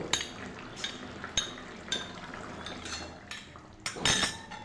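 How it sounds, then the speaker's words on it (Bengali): Egg chilli sauce stirred in a pot after a cornflour slurry goes in, with repeated sharp clinks and scrapes of a spoon against the metal pan over a soft liquid slosh, heard close up with no talking. "আবারও নাড়া দেবো আমি আগে থাকতে কর্নফ্লাওয়ার গুলিয়ে রেখেছিলাম দিয়ে দেবো"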